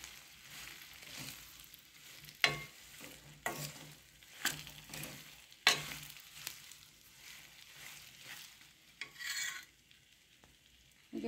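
Mango pickle being stirred in a pan over the gas flame, a soft continuous scraping and sizzling with several sharper clacks of the spoon against the metal, close and fairly quiet, no talking.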